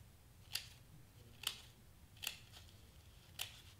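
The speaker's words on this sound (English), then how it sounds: "So just take your scissors and cut." Four crisp snips of scissors cutting headband material, evenly spaced and close, in an otherwise quiet room.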